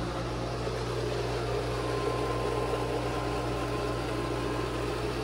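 A Pentair salt water pool filter system runs its rinse cycle, its pump giving a steady, loud mechanical hum with a constant low drone and rushing water noise, unbroken throughout, with no one speaking.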